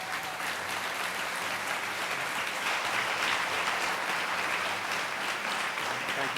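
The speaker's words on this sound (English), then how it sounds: "Let's give a round of applause." Audience applause at a 1997 hacker conference talk, a dense, continuous roar of clapping from a large crowd holding steady throughout.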